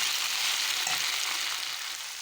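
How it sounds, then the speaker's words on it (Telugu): Potato pieces with turmeric and salt fry in oil over a medium flame, a dense, steady sizzle that stays close and loud throughout, with no talking. "మొత్తం ఒకసారి కలుపుకొని మీడియం ఫ్లేమ్ మీద ఫ్రై చేసుకుందాం"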